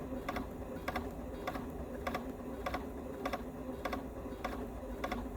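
A sewing machine stitching fabric pieces together, a quiet steady mechanical whir with regular clicking pulses of the needle mechanism, close and soft.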